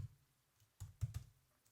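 Faint clicks on a computer keyboard, a few quick taps clustered together after a quiet pause, close and soft.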